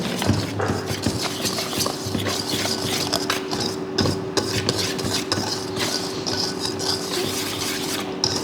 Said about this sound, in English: we're just going to mix this up together